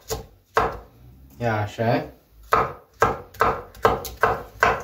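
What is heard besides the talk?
knife slicing bell peppers into thin strips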